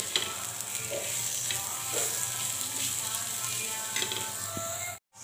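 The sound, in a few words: peanuts roasting in a pan for shengdana chutney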